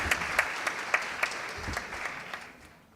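Audience applause at a scientific poster presentation session, a steady wash of clapping with a few sharper individual claps standing out, gradually fading away near the end.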